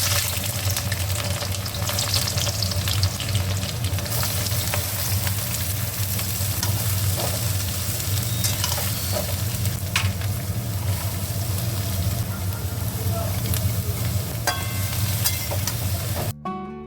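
Boiled chow noodles are stir-fried with mixed vegetables such as onion, green chilli and spring onion, giving a loud continuous sizzle with scattered scraping and tossing sounds throughout and no talk.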